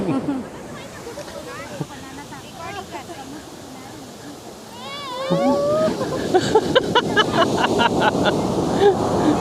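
Sea surf rolls and washes at Aazhimala beach in Kerala, a broad, continuous roar that swells louder in the second half, with wind buffeting the microphone and people's voices chattering over it.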